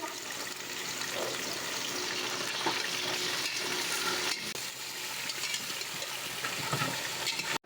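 Mutton pieces frying in a cup of oil inside a pressure cooker, giving a steady, close, broadband sizzle that runs almost the whole time, with a few stirring clatters and no voices.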